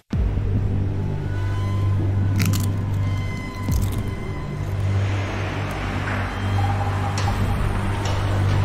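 A car rolls in to park, its engine a steady close rumble with ticking and a few squishy knocks, easing off midway before picking up again.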